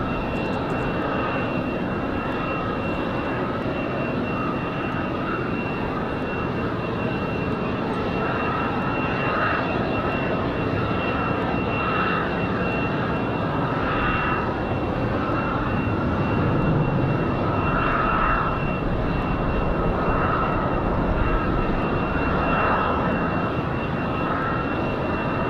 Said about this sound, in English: So here comes our JetBlue